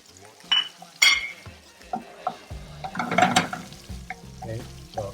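Onions sautéing in a pan while meatballs cook, a steady sizzle with stirring and a few sharp utensil clinks against the pan, close and moderately loud, no talking.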